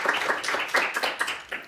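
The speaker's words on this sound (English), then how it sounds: "Give a round of applause" A small audience claps at a conference panel discussion, a short burst of close, uneven hand claps that rises and fades over a couple of seconds, with brief voices mixed in.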